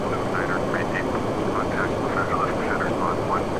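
Steady jet engine roar of a PMDG 737-800 airliner spooling up during startup in a flight simulator, a dense continuous drone with a faint whine riding on top, loud and unbroken throughout.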